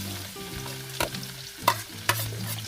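Garlic and onion fry in a pan with a constant sizzle, while the spatula scrapes and clacks against the metal a few times, loud and close, with no voices.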